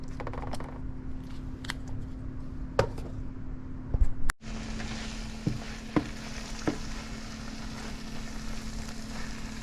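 Saltfish is stirred into vegetables frying in a pan, with a steady sizzle underneath and sharp scrapes and clinks of the spoon against the pan, close and alone.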